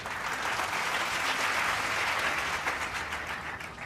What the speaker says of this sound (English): Please join me in a round of applause for James Kearns' 20 years of service to SVCC.